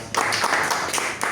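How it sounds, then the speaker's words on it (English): A small Toastmasters club audience claps briefly at a meeting, a short burst of close, uneven hand claps. "So please give a round of applause."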